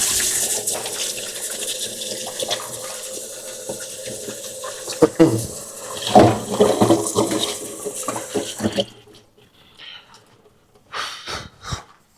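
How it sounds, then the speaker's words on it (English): Hands washed under running tap water at a sink, a steady close splashing flow that stops partway through, followed by quiet and a few short knocks and breaths. "Let's wash our hands."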